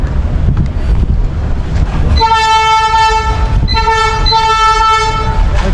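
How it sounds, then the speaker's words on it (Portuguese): A train horn blares in two long blasts over the rumble of a nearby passing train, with wind buffeting the microphone. "Vai passar o trem, gente."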